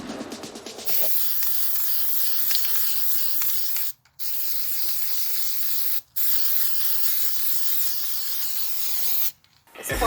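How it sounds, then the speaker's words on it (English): A black spray paint aerosol can, nearly empty, hisses in long, steady sprays, broken by three brief pauses, loud and close with no voices. "I was almost out of black spray paint"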